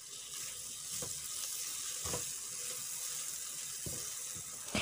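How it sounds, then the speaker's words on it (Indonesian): Spice paste sautéing in a pan for Indonesian chicken semur: a steady broadband sizzle runs throughout, with a few soft scraping stirs of the spatula at intervals. "Kita tumis-tumis terus sampai nanti berubah warna dan juga tanak tentunya"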